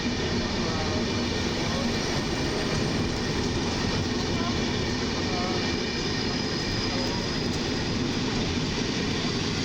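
A loud, steady rumbling roar of an Intercity passenger train at a platform in Warszawa Zachodnia station, constant throughout with no breaks, dense and close like standing beside it.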